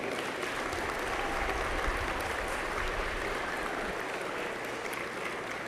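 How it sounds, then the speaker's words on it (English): Graduating class at a university spring convocation applauds their families, friends, faculty and staff, a steady wash of many hands clapping that fills the hall evenly for several seconds. "I invite you, the members of the graduating class, to reciprocate by applauding your family, friends, faculty and staff"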